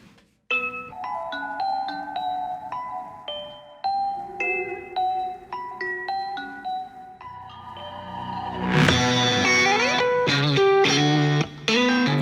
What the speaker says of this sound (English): this has a very big trap influence right from the beginning with this like epic bell sounds